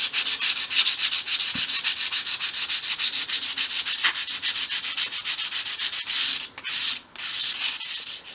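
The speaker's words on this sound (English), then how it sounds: "I'm just going to use a 500 grade sandpaper to give this a gentle sand" Someone hand-sands painted wood with 500 grade sandpaper in quick, regular back-and-forth strokes, a close rhythmic scratching that breaks off briefly near the end before resuming.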